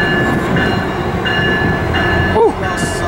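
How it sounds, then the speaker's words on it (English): A southbound Metrolink commuter train rolls past at Fullerton, a dense rumbling rush with rail clatter and tonal squeals, and a short voice cutting in over it. "Here comes the southbound Metrolink."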